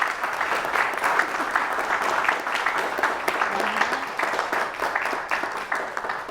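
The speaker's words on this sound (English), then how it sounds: "Can we just give another round of applause for us?" Audience at an artist talk and panel event gives a sustained round of applause, steady and dense clapping at moderate distance lasting several seconds, with a faint voice briefly audible underneath.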